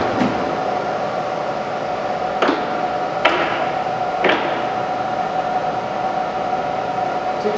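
A vertical jig boring mill spins steadily at 1600 RPM, giving a continuous mechanical hum with a sustained tone and a few light knocks, without talk.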